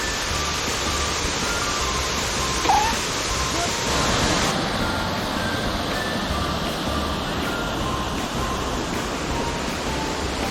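A waterfall at Khao Kho, Phetchabun, rushes in a steady, loud broadband roar that fills the scene with constant spray and flow.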